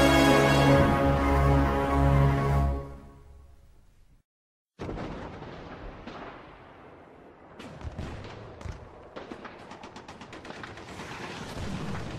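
Battlefield gunfire in the video game Codename Panzer Phase Three at Stalingrad: after a loud opening passage and a brief silence, irregular sharp shots and bursts crackle over a continuous rumbling background.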